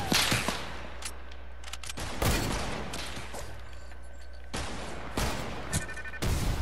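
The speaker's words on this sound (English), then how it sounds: "They're trying to shoot me." Video game gunfire comes in sharp, loud bursts, with rapid shots clustered at the start and repeated heavy reports every second or so, over a constant low background hum.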